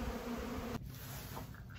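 Honeybees from a rescued colony collected in a bucket buzz in a dense, continuous hum, close and steady with no voices.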